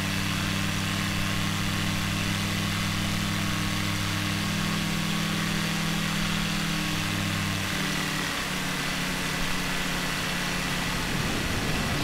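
Aircraft engine in Microsoft Flight Simulator 2020, throttled down during a descent over the Itaipu hydroelectric dam, droning steadily and loudly with a tone that shifts lower partway through, alone without talk.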